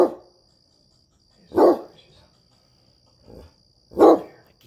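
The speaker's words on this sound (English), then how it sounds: "Watch where you're barking at." A dog barks indoors at night in single loud, sharp woofs, three strong barks spaced over a few seconds with a fainter one between them.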